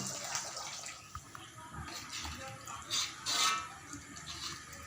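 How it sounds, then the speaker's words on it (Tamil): Dissolved tamarind water poured into boiling sambal for nasi lemak gives a soft, steady watery rush with a couple of louder splashy swells near the end, no speech. "புளியை கொஞ்சம் கரைச்சி ஊற்றிடணும்"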